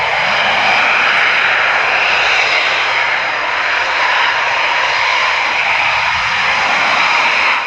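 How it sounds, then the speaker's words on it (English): Eurofighter Typhoon jet aircraft flying, a loud, steady broadband engine roar that holds throughout with no gaps, dominating the scene alone without any voices. "We've got some great Typhoons coming up for you."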